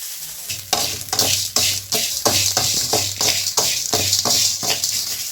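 Tamarind and salt dry-roasting in a pan for curry leaf powder, stirred with quick, rhythmic scraping strokes over a steady hiss, close and fairly loud throughout.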